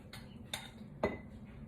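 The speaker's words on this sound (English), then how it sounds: "Let's scrape this out first." A utensil scrapes purple dead nettle infused oil out of a container in three brief, close metallic scrapes and clinks spaced about half a second apart, with quiet background and no talking.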